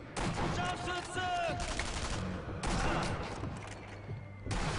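Sniper rifle gunfire in the World War II shooter game Sniper Elite V2: loud, sharp blasts that break out at the start, again near the middle and at the end, with rumbling echoes between them.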